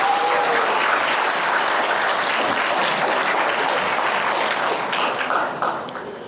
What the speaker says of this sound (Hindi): एक बार तालियों से इनको